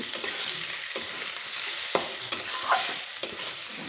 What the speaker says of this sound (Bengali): এই মূলর শাকটা যতক্ষণ না ভাজা হচ্ছে ততক্ষণ লো টু মিডিয়াম ফ্লেমে শাকটা ভেজে নেব